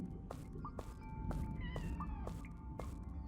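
In the video game Dark Lurker, a cat meows repeatedly at steady intervals over a low rumbling ambient background, with no one talking.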